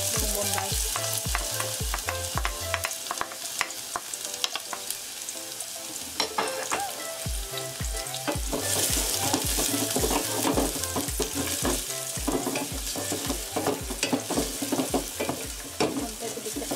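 Garlic and onion fry in a pan as the base for a kimchi soft tofu stew, with continuous loud sizzling and rhythmic stirring scrapes throughout and no talking.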